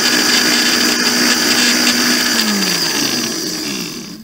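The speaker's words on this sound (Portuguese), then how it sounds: "você deixa no mais fraco mesmo, no número 1 do liquidificador e deixa triturar" Blender grinding herbs and salt on its lowest speed setting, a steady loud motor whir with a hum that slowly drops in pitch toward the end as it runs down.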